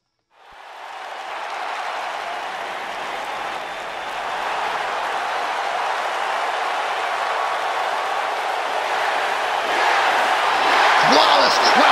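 Wrestling arena crowd at a WWE SmackDown event erupting into loud sustained cheering and applause that swells from silence and keeps building over twelve seconds.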